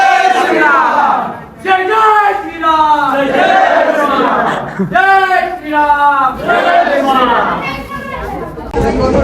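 Crowd noise at Wet n Joy water park in Lonavala: loud, close chatter and excited shouting from many people, with voices rising and falling continuously.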